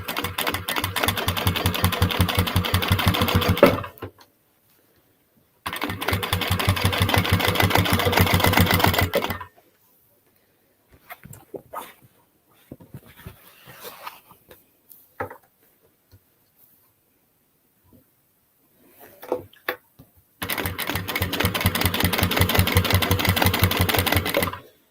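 Sewing machine stitching a fold-over clutch bag, running in three steady rhythmic bursts of a few seconds each, separated by quieter pauses with small handling clicks and rustles.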